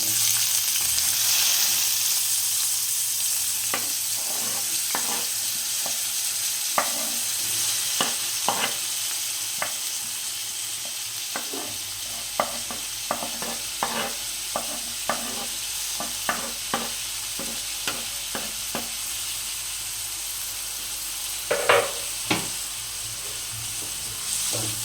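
Chopped onions fry in a spoonful of oil in a pan for tomato bread toast, with a steady close sizzle and repeated sharp scrapes and taps of a spoon stirring throughout, growing slightly busier toward the end.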